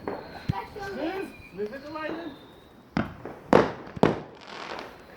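Bonfire Night fireworks go off outdoors in three sharp, loud bangs near the end, after a stretch where people talk and call out over the background crackle.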